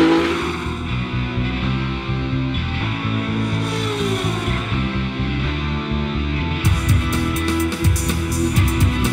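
A Metro 6R4 rally car climbing the Shelsley Walsh hillclimb in a championship event, its engine revving hard and shifting through gears, loud and close with sharp bursts near the end.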